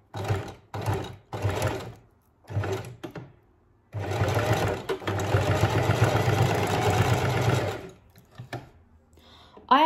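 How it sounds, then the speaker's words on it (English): Sewing machine stitching a small dog bow tie runs in several short bursts, then one long steady whirring run before stopping, close and clear, with no speech. "I actually sew it in two places on here"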